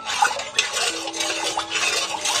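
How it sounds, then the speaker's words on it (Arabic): Herbs with lemon and vinegar stirred in a metal pot, steady close scraping and clinking of a utensil against the pot in irregular strokes, loud with no talking. "والليمون والخل ماده تعقيم. خلاص هقلبهم كويس"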